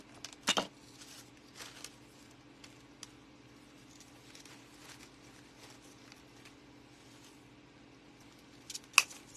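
Scissors cutting velvet decorations for a farmhouse Christmas wreath, with a couple of sharp snips near the start, faint handling sounds in between and a final snip at the end, in a quiet room.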